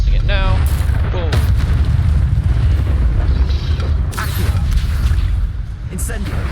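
Ancient magic spell in Hogwarts Legacy unleashed as a massive, loud booming explosion with deep rumbling low end and whooshing bursts, sustained over several seconds.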